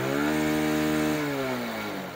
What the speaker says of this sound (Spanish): pero pues si yo acelero la moto se va